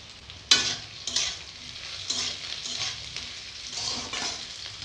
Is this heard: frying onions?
yes